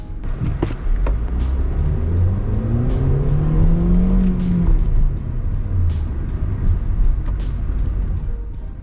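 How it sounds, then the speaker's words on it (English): A 2021 Kia Stonic crossover with a 98 hp engine accelerates from a stop, its engine note rising steadily in pitch through the gear, heard from inside the cabin over a constant road rumble. "You step on the gas and it goes."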